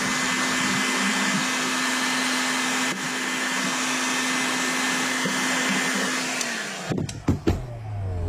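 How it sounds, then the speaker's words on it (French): Heat gun from Action blowing hot air while heating parts during ignition work on an MBK 51 moped, a loud steady fan roar with a constant hum for about seven seconds before it shuts off amid a few clicks and knocks. "Tac, donc décapeur thermique de chez Action, hein. Et on chauffe."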